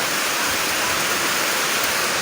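Strong wind and heavy rain from a super typhoon in Balingasag pour down as a dense, steady roar, loud and close with no break, and no voices are heard.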